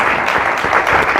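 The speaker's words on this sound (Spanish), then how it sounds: "Así que un aplauso para ella, claro." Brief burst of applause for the mayor at a local political party meeting, a small audience clapping steadily and fairly close for about a second.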